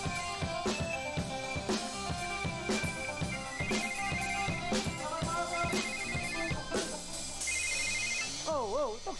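A mobile phone rings with a looping melodic ringtone, loud and continuous, during an indoor talk.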